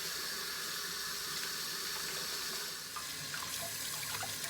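Apples being washed under a running kitchen tap before coring and peeling, a soft continuous stream of water with faint splashes and light clinks against the sink, fairly quiet and close.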